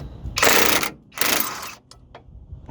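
Pneumatic impact gun working on a car's steering, two loud bursts of rapid hammering rattle, each under a second, followed by a few faint clicks.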